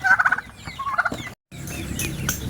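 Pet turkeys on a farm gobble in quick rattling bursts, a few close calls repeating before a brief silence, then a busy, noisy stretch of farmyard background.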